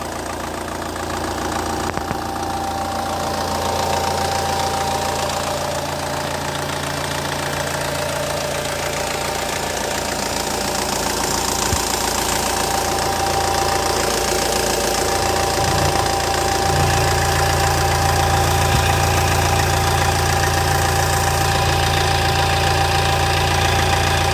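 A SsangYong Kyron engine idles steadily up close, a constant low rumble with a faint ticking knock running through it, no voices.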